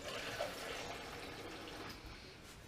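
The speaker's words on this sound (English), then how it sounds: "So into the pan goes" About 300 ml of plain water pours steadily into a pan to start a syrup for baklava, a continuous close splashing hiss that lasts throughout without talk.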